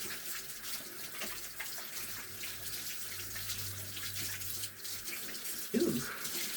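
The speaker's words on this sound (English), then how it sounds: "let me rinse my hands." Tap water runs steadily into a sink as hands are rinsed, a soft continuous broadband wash with a brief louder splash near the end, no talking over it.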